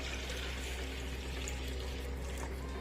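Water pours steadily into a pot of washed khesari lentils for boiling, a continuous close splashing trickle with no talk over it.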